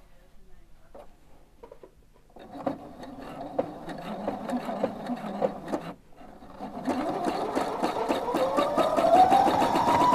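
A sewing machine runs a light zigzag stitch along the fabric edge, joining two layers for a Minikrea 50600 elephant hat. After a quiet start it whirs in bursts, pauses briefly, then picks up into a faster, rising hum.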